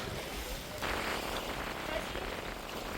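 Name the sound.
sea waves breaking at the shore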